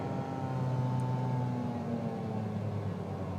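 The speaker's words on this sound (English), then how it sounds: "Probably the loudest thing about this vehicle is the climate control." Climate control fan and compressor of a 2024 Fiat 500e electric car, a steady whirring hum with faint tonal whine lines, constant and moderately quiet with no talk.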